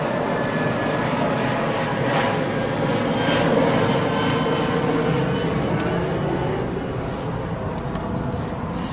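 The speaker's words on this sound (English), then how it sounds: "Here goes the next aeroplane." A Jetstar passenger jet passes overhead, a steady broad engine roar swelling slightly mid-pass then easing, heard from a distance outdoors.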